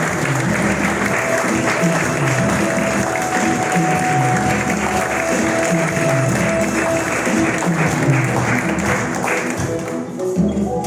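A church congregation applauds during a worship service, loud, dense rhythmic clapping from a large crowd sustained throughout, with voices mixed faintly underneath before it thins out at the end.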